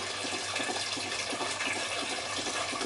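Water from a spring rushes steadily through a small model hydraulic ram pump, a continuous close, even gushing and splashing flow with no pauses.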